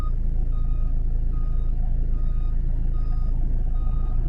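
A car reversing into a parking space during a driving test gives steady, evenly spaced reversing beeps over a constant engine rumble, close and clear with no talking.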